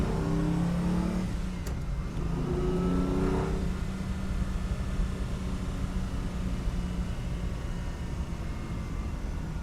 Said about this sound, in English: You can let the revs drop, or you can let it wail.